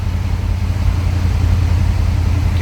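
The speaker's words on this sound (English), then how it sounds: "We'll go ahead and fire this car up so you can hear how smooth it runs." A 1979 Chevrolet Corvette L82 coupe running, its V8 giving a steady, loud low rumble heard up close with no voices.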